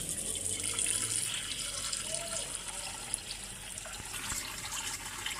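Water runs and splashes softly into a frying pan normally used for making tea, a faint, steady pour with light trickling throughout and no talk.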